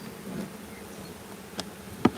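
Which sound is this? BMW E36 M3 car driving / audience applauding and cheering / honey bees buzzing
honey bees buzzing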